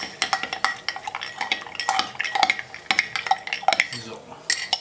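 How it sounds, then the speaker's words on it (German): A spoon scrapes and clinks steadily against a bowl while cornstarch is stirred into cold water, in quick repeated strokes, close up. "Dann rührt ihr die Maisstärke mit kaltem Wasser an."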